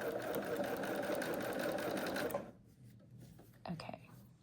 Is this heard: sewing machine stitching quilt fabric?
yes